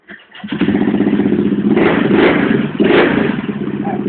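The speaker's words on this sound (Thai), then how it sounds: "สามารถกดสตาร์ทได้เลย" A Honda PCX 125i scooter starts with a quick push-button crank and settles into a loud, close, steady idle putter with slight revving.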